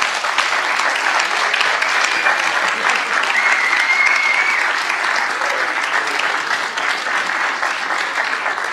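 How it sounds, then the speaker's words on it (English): A convention audience in Amsterdam gives a loud, sustained round of applause for Dee Dee, dense continuous clapping with scattered voices and cheers mixed in. "she needs a round of applause"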